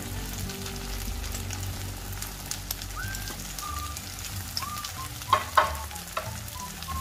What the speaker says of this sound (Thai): เราก็จะใส่ต้นหอมกับถั่วงอกลงผัดนะคะ